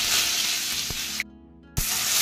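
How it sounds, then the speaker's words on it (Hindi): Chopped onions hitting hot oil with bay leaves and cardamom, a bright, loud hiss of frying that cuts off briefly into near silence and then resumes, with a couple of dull knocks from the pan. "तो मैं इसमें ऑयल में डाल दूंगी, और इसके बाद जो हमने प्याज चॉप करके रखी थी वो,"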